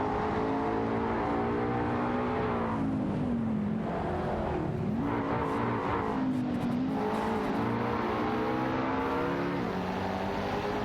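Race car engines in a sim racing video game, with BMW 3.0 CSL Homage cars battling in a pack, producing a continuous loud layered drone whose pitch rises and falls through gear shifts, with no voice over it.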